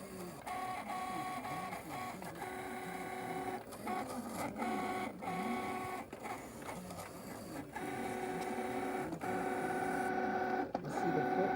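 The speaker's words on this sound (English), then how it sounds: "to cut it and print it. This is why I love my Cricut machine" Cricut machine cutting and printing on poster board; a steady mechanical whir with repeating tonal motor whines and soft clicks as the carriage moves back and forth, close and fairly quiet.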